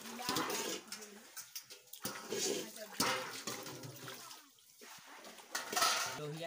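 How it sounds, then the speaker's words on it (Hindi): Dishes and pots clatter and clink while water splashes, with a person talking over the washing noises throughout. "फटाफट धोते हैं बर्तन"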